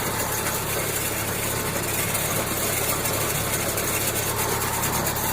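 A tractor engine running in a field during potato planting, a steady close diesel drone with constant rumble and rattle, unbroken and loud throughout, no talk.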